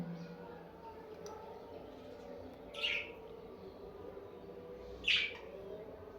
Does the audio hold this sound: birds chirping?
yes